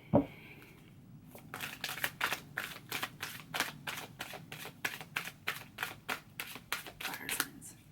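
A deck of oracle cards is shuffled, first a soft riffle and then a long run of quick, crisp, evenly spaced card slaps, close and clear, with no talking.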